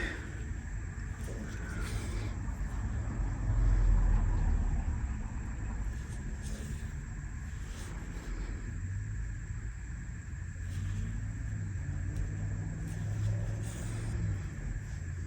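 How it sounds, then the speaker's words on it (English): Traffic on a fairly busy road heard from a parked car around five o'clock, a steady low rumble with one vehicle swelling louder as it passes, more cars droning behind, no talk. "You probably hear the cars going by."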